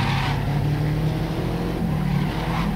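Engine of a Mitsubishi Lancer Evolution in a racing video game, a steady loud droning rumble held at constant revs without pause and with no talk over it.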